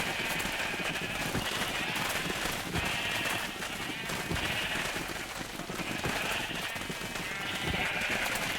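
Sheep bleat at a Minecraft sheep farm, several soft repeated bleats spread across the clip over a steady patter of background noise, fairly quiet and alone without talk.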